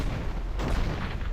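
Cannon fire from Dungeon Siege 3, a heavy booming artillery report with a rumbling low-end impact, brief and loud within game ambience.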